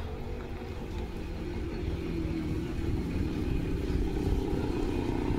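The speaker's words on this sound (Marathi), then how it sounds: "ट्रॅक्टर आलाय ना" A farm tractor's engine rumbles steadily at close range, growing slightly louder as it approaches with a continuous low chugging drone.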